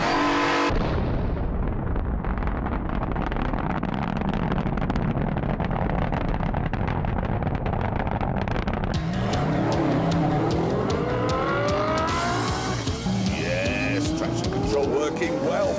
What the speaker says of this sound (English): working well for a blinding start from the Bentley